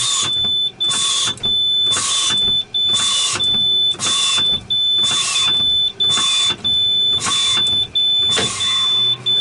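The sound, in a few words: truck air brakes fanned down until the valve pops out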